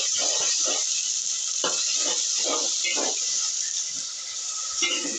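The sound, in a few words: frying ginger and garlic in a pan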